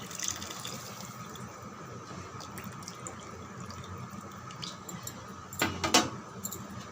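Tamarind water is poured into a simmering sambar with mango pieces, making a soft, steady liquid wash with a short splashy burst near the end, fairly quiet and with no talking.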